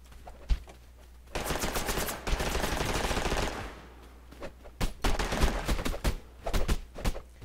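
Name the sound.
gunfire in a video game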